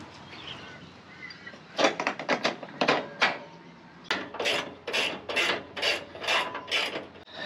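A 17 mm spanner tightens a clamp holding a slide-on camper canopy to a truck tray, producing close rhythmic rasping ratchet strokes in two bursts with a short pause between.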